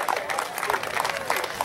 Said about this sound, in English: Give yourselves a round of applause for getting out and participating early in the morning.